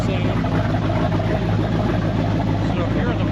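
A Ramjet 502 cubic inch V8 in a 1968 Chevrolet C10 resto-mod holds a steady, deep idling rumble, close and loud, with no change in pace throughout.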